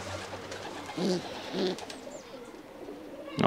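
Racing pigeons coo softly nearby, two low, burbling coos a moment apart over quiet background noise.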